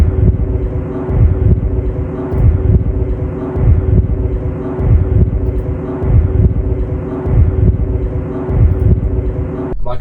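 A steady, droning aircraft engine rumbles throughout, loud and continuous, with a rising swell as the plane passes close by.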